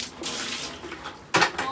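Hot tap water runs into a bucket to rinse it out, a close, soft splashing stream with a louder gush near the end.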